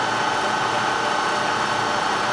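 A Bridgeport EZ-TRAK I three-axis CNC vertical mill with DX controller runs a Z-axis pecking cycle, giving a steady, even machine whir and hum that holds unchanged throughout at close range.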